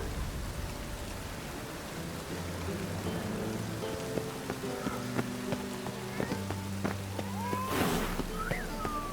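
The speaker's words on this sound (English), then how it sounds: "It's raining, of course it's going to be done." Steady rain falling over a city in The Witcher 3, a dense hiss of drops on surfaces that runs throughout, with scattered tonal game sounds and a brief louder swell near the end.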